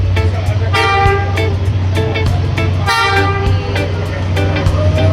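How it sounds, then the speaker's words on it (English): A train on Hanoi Train Street in Vietnam sounds its horn in several loud toots over a steady low rumble close by, with people talking in the background. "So you can hear the train."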